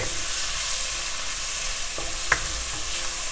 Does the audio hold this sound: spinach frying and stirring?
yes